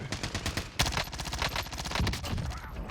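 A PPSh submachine gun with a 3x scope fires on Rebirth Island, a dense, rapid automatic burst that runs the whole stretch, loud and close, with no pauses and no speech.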